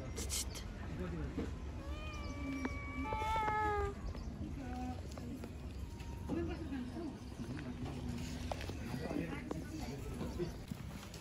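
A cat meows a few times in a short series, fairly close, against steady outdoor background noise on a hillside trip near Budanilkantha, Nepal, with people talking around it.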